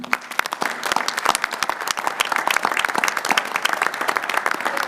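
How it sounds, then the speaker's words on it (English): A town meeting crowd applauds a new police chief, a dense, sustained round of clapping from many hands in a hall, steady and fairly loud with no talk over it. "A big round of applause for our new police chief, Matt Rayner."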